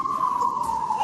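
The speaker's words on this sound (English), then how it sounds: "That's the ambulance." An ambulance siren holds a steady, slightly falling wail, continuous and fairly loud for about a second over faint background noise.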